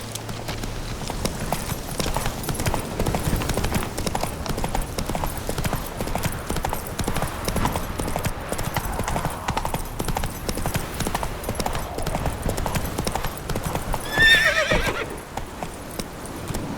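Hooves pound in quick, repeated clip-clop as Roach the horse gallops through The Witcher 3, a brisk and steady rhythm that runs on for the whole span, with a short whinny near the end and faint speech underneath.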